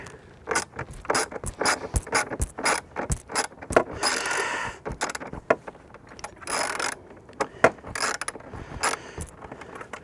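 Ratchet wrench cranking off a screw on a motorcycle tour pack, quick bursts of sharp clicking strokes in an uneven rhythm, close and clear with short pauses between runs.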